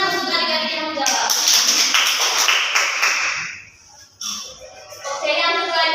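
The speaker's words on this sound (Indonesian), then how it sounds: "Tepuk tangan untuk adik-adik yang menjawab." Schoolchildren in a classroom clapping their hands together in a rhythmic burst, with children's voices and a teacher speaking over and around it, the clapping fading before voices return.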